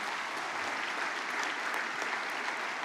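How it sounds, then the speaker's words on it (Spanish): A church congregation claps together in a continuous, even burst of applause, brief and fairly full with no pause. "Vamos a dar un aplauso al Señor."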